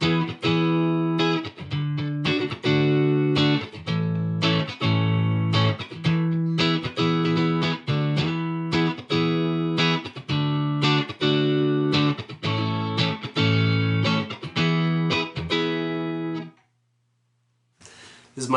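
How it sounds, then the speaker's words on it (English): Overdriven electric guitar chords played through an amp with a new speaker in a cardboard cabinet, loud and sustained with a gritty distorted edge, strummed repeatedly before cutting off into a low hum. "I'm going to go clean, low volume, medium volume, high volume, overdrive, distortion"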